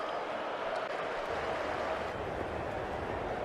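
A cricket crowd in an England versus India one-day international rises to applaud Ben Duckett's century, a steady, dense wash of clapping and cheering that holds at an even level, heard from a distance.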